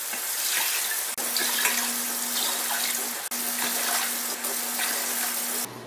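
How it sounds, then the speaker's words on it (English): Tap water pours steadily into a large pan, filled with about five quarts for a steam juicer, a continuous close splashing rush with two brief breaks and a faint low hum. "The instructions say to put 5 quarts of water in the pan,"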